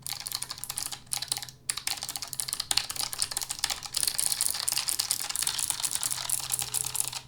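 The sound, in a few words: typing on Keychron K1 keyboard with low-profile blue switches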